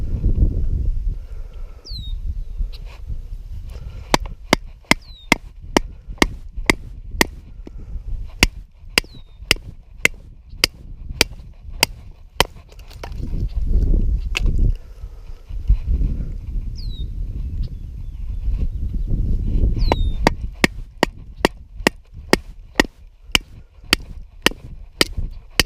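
A cheap $6.99 survival kit knife is batoned through wood, giving a long series of sharp, loud wooden cracks at an irregular rhythm, some close together and some spaced apart, over a low rumbling background.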